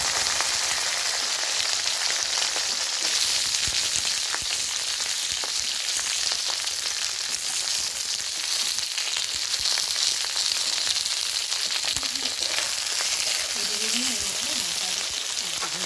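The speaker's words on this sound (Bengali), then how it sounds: "তেল দিয়ে কুঁদরিগুলো এইভাবে আমি ভেজে" Ivy gourds (kundri) frying in hot oil crackle and sizzle densely and continuously, close and fairly loud, with scattered bubbling pops toward the end.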